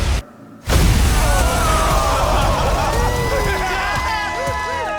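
A LEGO UFO build is blown apart by explosive charges set up high, giving a quick cut to silence and then a loud, dense burst of pops, crackles and whistling fireworks-like streaks that carry on steadily to the end.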